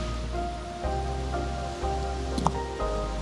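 Steady rushing roar of a waterfall at Unchalli or Magod Falls in Karnataka, heard from a viewpoint as a constant broad wash of water with faint thumps and a brief high sound near the end.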